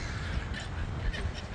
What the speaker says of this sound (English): some people are feeding these seagulls